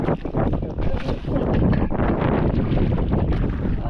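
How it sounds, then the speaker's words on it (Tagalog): Steady wind buffeting a microphone outdoors, a continuous loud rumble and roar with gusty swells, likely near open water. "Medyo mahangin."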